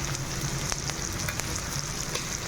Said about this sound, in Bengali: তো চিংড়ি মাছটা অলরেডি ভাজা হয়ে এসছে, আর একটু ভেজে নেব।